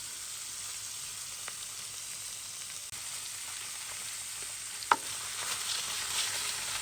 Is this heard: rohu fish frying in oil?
yes